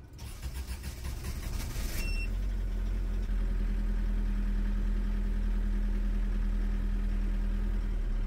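Custom diesel Chevrolet S-10 truck engine turning over and settling into a steady low rumble, a brief rough burst at the start giving way to continuous even running, fairly quiet and without talk.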